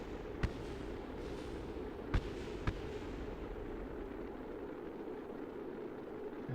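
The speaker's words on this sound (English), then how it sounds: "That's the sound of the booster hitting the ground." Rocket booster slamming into the ground in Kerbal Space Program, heard as a few sharp distant thuds at intervals over a steady rumbling background hum, with no talking.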